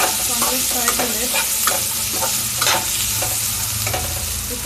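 Onion and brown rice fry in a pan for a vegetable pulao, a steady close sizzle with repeated scraping stirs from a spoon against the pan at an uneven rhythm.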